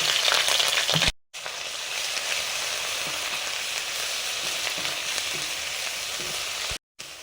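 Ginger, garlic, onion and green chilli paste sizzles in hot oil in a kadai after frying fish, a steady broadband frying hiss lasting throughout with two brief cuts, close and fairly loud, with no talk.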